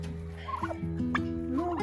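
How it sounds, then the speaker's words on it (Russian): Turkeys being let out of their pen on a farm gobble in close, loud rattling calls, with several overlapping birds sounding over a short stretch. "индюков выпускаю. Пусть идут гуляют."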